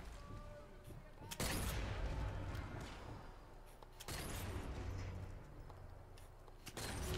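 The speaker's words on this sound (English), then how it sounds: "I'm shooting these guys point blank in the face and they're not dying" Gunfire in the video game Sniper Elite 4, sharp bursts of shots cracking out in quick clusters over a rumbling background, with a player talking in between.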